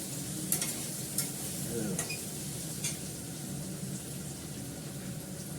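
Curry being stir-fried in a pan after a little sugar goes in, with a steady low sizzle and a few sharp scrapes and clinks of the spoon against the pan.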